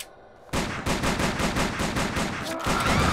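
Rapid gunfire in Silent Hill: The Arcade, a loud, sustained stream of evenly spaced shots that starts abruptly after a brief quiet moment and keeps hammering without pause.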